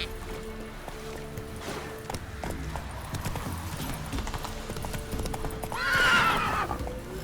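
Roach, a horse ridden in The Witcher: Hearts of Stone video game, gallops with steady rapid hoofbeats over a game soundscape, with a brighter swell near the end.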